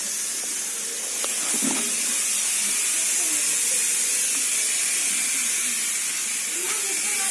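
Steam hisses steadily from a pressure cooker whistle on a home kitchen stove, a continuous bright rushing sound that stays loud and even throughout, with faint background voices and small clatters underneath.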